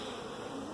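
A dense swarm of bees buzzing steadily and close by outdoors, a continuous droning hum with no pauses.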